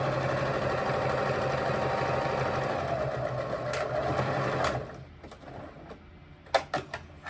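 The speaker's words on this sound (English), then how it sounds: "I'm just sewing a straight line up and a straight line back without closing off the ends." A sewing machine stitching a straight seam on an apron runs as a steady, close mechanical whir for about five seconds, then stops, leaving quieter handling clicks and knocks.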